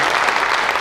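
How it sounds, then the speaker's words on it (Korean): Applause from an audience at a Korean senior teachers' day ceremony, a dense, steady wash of many hands clapping with no pause, moderately loud throughout. "우리 모두에게 큰 박수 부탁드리겠습니다."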